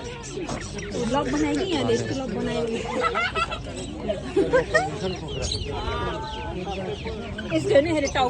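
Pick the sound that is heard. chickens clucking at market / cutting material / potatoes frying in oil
chickens clucking at market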